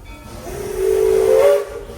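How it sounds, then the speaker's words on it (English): A steam locomotive whistle on the Walt Disney World Railroad at Magic Kingdom sounds one steady, loud tone lasting about a second, rising from a soft hiss of steam and fading back into it. "When you hear the one whistle"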